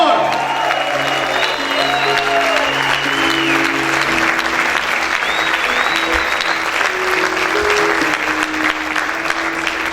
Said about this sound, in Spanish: A ver, grita y aplaude fuerte al Señor.